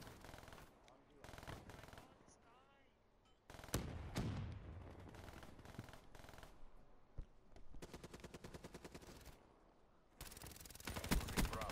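Automatic weapon fire with a BOA3 sight in the online shooter Black Ops 3, repeated rapid bursts of close gunshots with short pauses between them, under a player's occasional voice.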